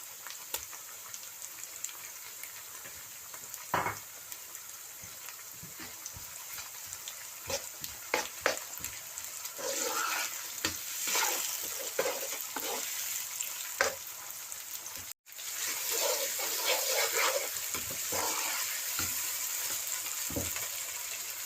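Tomatoes, onion and ginger-garlic fry in a pan as the base for mutton liver, giving a steady close sizzle with occasional crackles and stirring scrapes, and no talk.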